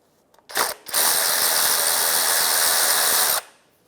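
A 15mm socket on a ratchet loosens a starter mounting bolt on a 2005-2010 Chevrolet Cobalt: a short click, then a loud, close, steady run of rapid ratchet clicking lasting a few seconds before stopping.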